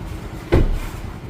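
Geely EX5 EM-i Max car door opening with a single soft thud and brief mechanical whir as the seat adjusts, close and moderately loud over a quiet cabin background.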